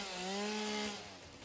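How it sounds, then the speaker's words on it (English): Video game chainsaw in a factory-building game, a loud steady buzzing drone that slides in pitch, running on its own without talk. "we need to get the chainsaw out"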